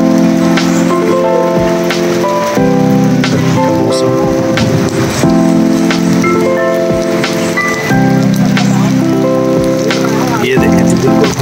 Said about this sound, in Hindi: बारिश जो है ना वो बड़ी तेज तेज बारिश हो रही है